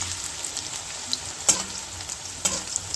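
Potatoes fry in hot oil in a pan, giving a steady, close sizzle with a few sharp clinks from stirring, and no voices.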